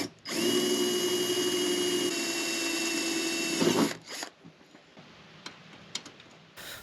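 A power drill bores into the front panel of a Rippa R13 mini excavator, a loud steady high whine for about three and a half seconds that cuts off, followed by quiet clicks and handling noises.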